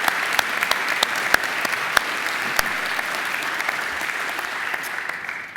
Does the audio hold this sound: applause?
yes